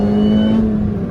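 A supercharged 2006 Mini Cooper S pulls hard under acceleration, its engine a loud, steady drone with a sustained whine that holds level throughout without pause.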